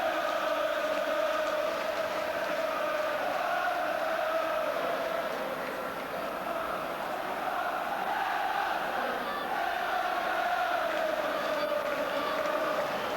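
Football crowd on the Kop at Anfield during Liverpool against Tottenham Hotspur, a steady roar of applause and cheering that swells and holds throughout, loud and sustained with no clear voices standing out.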